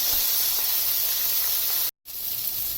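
Fish frying on a hot tawa gives a steady, bright sizzle, close and constant, broken only by a momentary dropout near the end.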